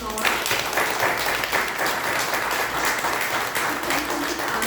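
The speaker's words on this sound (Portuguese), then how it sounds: "eu gostaria de uma salva de palmas a todas que foram antes de nós" An audience at an International Women's Day event on women in the workforce gives a sustained round of applause, a dense, steady roar of clapping that stays loud throughout.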